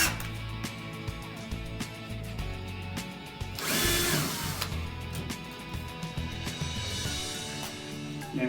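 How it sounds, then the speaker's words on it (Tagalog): A power drill backing screws out of an AC wall outlet in a home electrical job, with short whirring bursts and some clicking, plus one longer louder run midway, all close by. "So gagamitan ko ng drill guys para mas mabilis ang"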